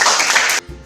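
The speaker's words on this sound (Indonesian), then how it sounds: "Tepuk tangan dulu untuk Rita." Short burst of classroom applause for a student during an Indonesian teacher-training lesson, dense clapping for about half a second before cutting off abruptly, followed by a faint low hum.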